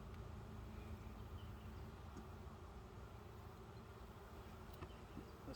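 Honey bees buzz steadily during a beehive inspection, a dense, continuous hum from many insects close by that stays even throughout, with no voices.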